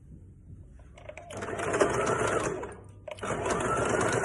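A sewing machine stitching a princess cut blouse runs in two close bursts of rapid, even whirring, separated by a short pause.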